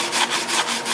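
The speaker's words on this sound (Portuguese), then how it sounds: "Aqui está bem sujo, então eu vou escovar bem essa região aqui" Wire brush scrubbing a dirty cast aluminum cylinder head before welding, a steady gritty rasping with rhythmic strokes, loud and close, no talk.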